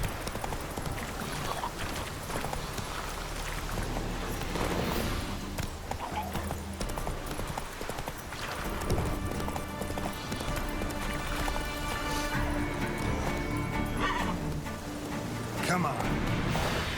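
Roach the horse gallops in The Witcher 3, with a continuous rhythmic clip-clop of hooves running for a long stretch, mixed with game sounds and occasional whinnies.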